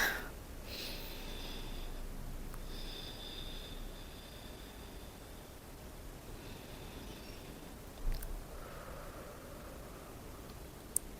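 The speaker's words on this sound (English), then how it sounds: "Take a few deep breaths." Deep breaths during a guided meditation, slow and soft inhales and exhales in a quiet room, with faint breathy sounds spaced across the stretch.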